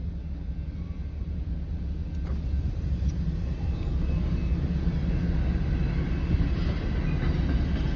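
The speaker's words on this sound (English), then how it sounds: "Looks like we got a grain train." A grain train rolls past at Britton Road in Oklahoma City, a steady loud low rumble and rattle of freight cars that holds and builds slightly across the whole stretch, with no voices.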